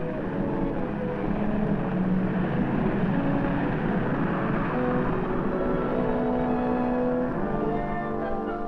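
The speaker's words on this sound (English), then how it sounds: "the U.S. Air Force demonstrates its latest cargo plane" A Fairchild XC-120 propeller cargo plane of the U.S. Air Force drones steadily overhead, a continuous engine hum with shifting tonal whine, moderately loud and unbroken.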